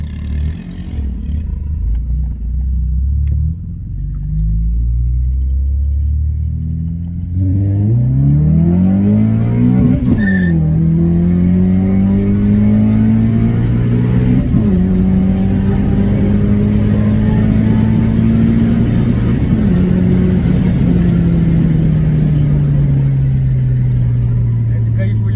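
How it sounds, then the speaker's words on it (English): A Honda Accord Type S with a K24 engine revs and pulls away, the engine note rising through the gears with a smooth low mumble, loud and close, while people talk over it. "Yeah, there's that mumble now, but it's not like heavy, man. It's smooth."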